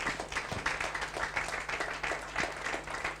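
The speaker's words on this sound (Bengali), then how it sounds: "চলুন সবাই যার যার অবস্থান থেকে দুটি হাত খালি করে জোরদার একটা করতালি দিই।" An audience at a leadership event claps together, a dense, moderately loud patter of many hands that holds steady for a few seconds.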